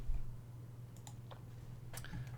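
A few soft computer keyboard key presses click sparsely over a steady low electrical hum, quiet and close.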